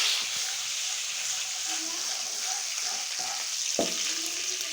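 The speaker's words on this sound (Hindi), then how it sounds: "अब इसे हिलाएंगे।" Cumin seeds crackle in a hot tempering in a frying pan for moong masoor dal, a steady soft sizzle with a few brief scrapes as it is stirred, heard close and without talking.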